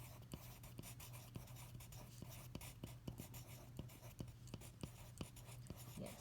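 Pencil writing on paper, close and quiet: a steady series of small scratchy strokes and light taps at an even pace, over a low background hum, with no speech.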